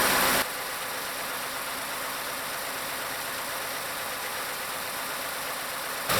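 A 2011–2017 Ford F150 idles steadily while warming up after a water pump replacement, a constant broadband engine hum holding level throughout with no talk.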